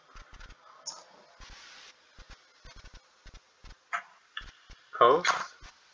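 Calculator buttons pressed one at a time in short, irregular clicks, quiet and close, followed by a brief voice near the end.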